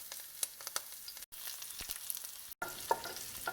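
Parsley and garlic frying in oil, a steady bright sizzle with crackling pops and a few stirring scrapes, close and clear, broken by two very brief gaps.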